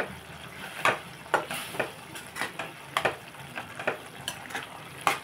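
Spinach, sesame and chili curry stirred in a pan, a spoon scraping in repeated strokes roughly every half second over a steady low sizzle, close and moderately loud with no talking.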